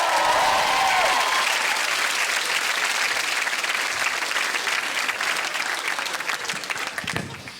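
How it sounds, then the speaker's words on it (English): Studio audience at a comedy show bursts into loud, dense applause and cheering that holds steady, then thins and fades toward the end. "So let's have this side of the room cheering on 3."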